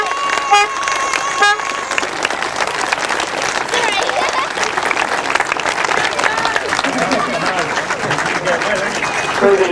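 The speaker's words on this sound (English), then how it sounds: "I'm sure you'll get a very big round of applause for this man coming up" A crowd at a 2000 testimonial grasstrack meeting gives loud, sustained applause for the 500cc solo winner, Joe Screen, with a couple of horn toots near the start and an announcer's voice over the clapping.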